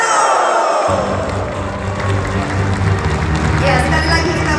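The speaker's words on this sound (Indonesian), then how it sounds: "sekali lagi kita berikan tepuk tangan yang sangat meriah" A large crowd breaks into loud, sustained applause and cheering at the closing of the PKB congress in Denpasar, Bali, a dense roar of clapping and whoops that swells right after a brief quiet, with voices mixed in.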